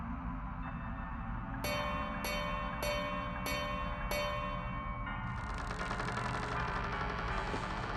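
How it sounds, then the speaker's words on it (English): A bell at a wooden door in the video game Crow Country, struck five times in an even ringing rhythm, each ring bright and sustained, followed by a brighter shimmering chime over a low ambient hum. "Maybe I should try ringing the bell."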